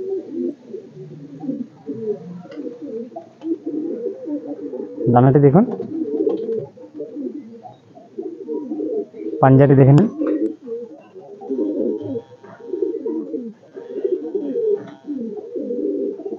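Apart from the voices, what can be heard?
Madrasi pigeon chicks cooing in loft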